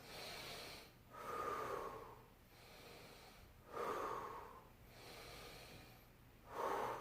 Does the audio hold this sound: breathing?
yes